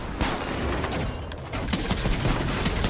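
Sniper fire and battle noise in the video game Titanfall 2, a dense continuous barrage of booming shots and impacts filling the mix at a steady loud level.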